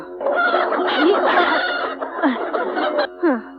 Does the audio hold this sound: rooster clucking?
yes